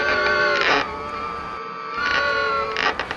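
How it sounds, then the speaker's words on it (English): Anglian energy-saving, thermal-efficient windows rattle and shift in the wind, making two loud squealing, creaking bursts separated by a quieter stretch of faint movement. "Well, that's the sound of Anglian's energy-saving, thermal-efficient windows."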